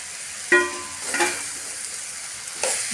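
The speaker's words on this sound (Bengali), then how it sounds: "ভালো করে তরকারিটা সরিষা বাটা দিয়ে কষাই নিব" A vegetable curry with hilsa fish and taro stems being stir-fried with mustard paste, a soft sizzle with a few brief scraping stirs, close and fairly quiet, with no talking.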